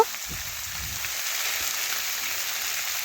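Fish oil, the fat of a bata fish, frying with chopped onion in a pan, giving a steady, even hiss of sizzling with a few faint low knocks of stirring near the start.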